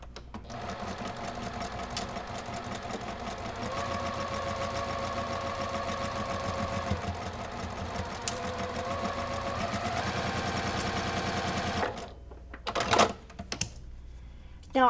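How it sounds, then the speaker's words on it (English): A sewing machine stitching a 1/4 inch seam on a Halloween pumpkin quilt block: a continuous, close, rapid motor hum with needle clatter for about twelve seconds, then a stop followed by a few sharp clicks and handling knocks. "we're gonna stitch a 1/4 inch seam"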